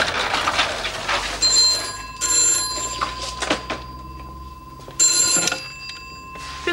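Old-fashioned telephone bell ringing in a house, in repeated bursts of bright metallic trilling separated by short pauses, fairly close, with some rustling and background noise but no talk.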